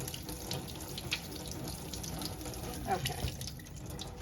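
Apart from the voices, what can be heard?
rinsing cooked food under running tap water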